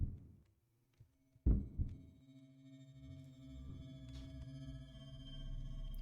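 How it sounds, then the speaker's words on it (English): A heartbeat effect in the game Ib, a low isolated thump followed by a louder pulsing beat, then a sustained low throbbing hum with faint tonal chimes above. "Heartbeat."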